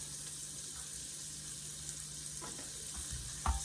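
Vegetables for broccoli cheddar bacon soup sweat in a pot, giving a quiet, even sizzle with a few light clinks of stirring near the end.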